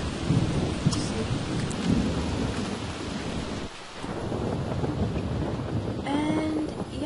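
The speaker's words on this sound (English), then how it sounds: "But I guess she's gonna sit out in the rain." Rain and thunder in The Sims 3 video game fill the whole stretch as a dense, steady downpour with low rolling thunder rumbling underneath, loud and continuous with only a brief dip partway.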